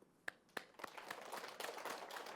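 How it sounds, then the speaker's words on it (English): An audience at a spiritual talk on Advaita Vedanta claps faintly: a couple of separate claps come first, then they swell into continuous scattered applause. "Now we clap."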